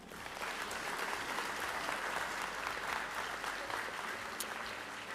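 Audience applause for an elementary school teacher at a county Teacher of the Year ceremony, a steady, dense clapping that holds evenly for the whole stretch with no voices over it.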